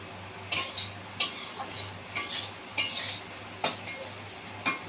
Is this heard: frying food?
yes